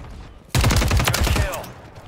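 A gun fires in Call of Duty, a sudden loud burst of rapid automatic shots that starts abruptly and rattles for about a second before trailing off into a fading echo.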